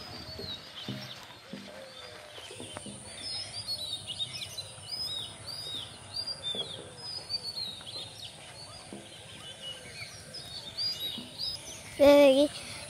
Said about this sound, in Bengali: সকালবেলা আবার পাখি ডাকে